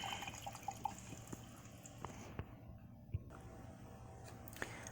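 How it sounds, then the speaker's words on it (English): A paintbrush being rinsed in a water cup while painting a galaxy design on a rock: quiet close drips, small splashes and clinks over faint background hiss, no talk. "I'm going to go ahead and rinse off the brush."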